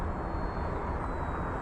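An RC model airplane engine drones in flight, a steady unbroken roar filling the whole clip, loud and close with no voices.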